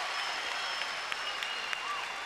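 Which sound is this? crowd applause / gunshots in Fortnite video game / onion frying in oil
crowd applause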